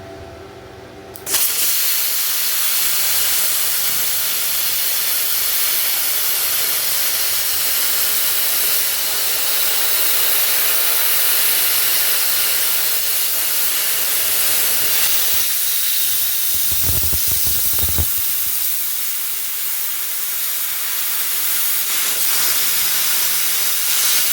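An ArcCaptain Cut55 plasma cutter slices through half-inch thick metal with a loud, sustained roaring hiss that starts abruptly and holds steady for the length of the cut, with a few faint knocks partway through.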